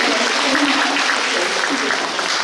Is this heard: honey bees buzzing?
no